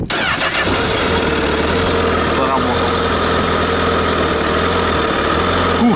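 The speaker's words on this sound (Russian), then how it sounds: "Запускаем двигатель." A 2013 Honda CBR1000RR Fireblade sport motorcycle engine cranks on choke and catches, then settles into a loud, steady idle with a low throbbing rumble close by.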